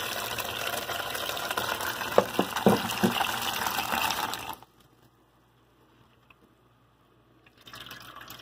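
Kitchen tap water running into a colander to rinse cooked spaghetti for garlic and oil pasta, a steady close splashing rush for about four seconds that cuts off into near silence before faint sounds return.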